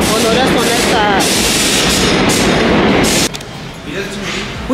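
A New York subway train roars loudly and close for several seconds with rattling, screeching metal, then drops off to a lower rumble as it pulls away, while voices talk over it.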